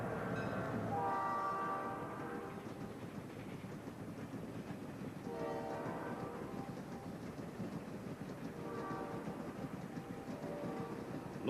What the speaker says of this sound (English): As we approach, a new Amtrak is just leaving.